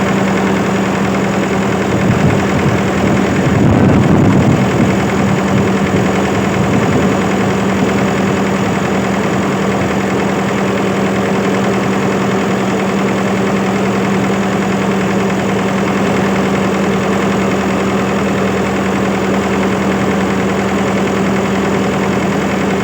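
A freshly rebuilt engine idles steadily, loud and close, with a constant low hum and a brief rougher burst near the start before settling into an even drone.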